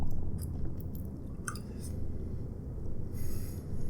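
Close, soft chewing of food with small crunchy and moist bites scattered over a steady low background rumble, no talking.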